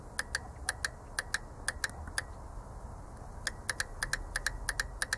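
The valve on a Bosch CP diesel pump clicks sharply and repeatedly, some clicks landing in quick pairs, over a faint steady hum. The ticks are crisp and close, with no talking.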